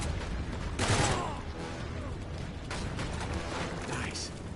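Gunfire from the action video game Uncharted, with bursts of shots mixed with game effects and mechanical clatter, fairly loud and dense across the moment, with voices in the background.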